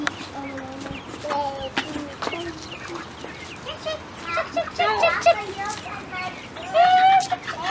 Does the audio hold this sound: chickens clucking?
yes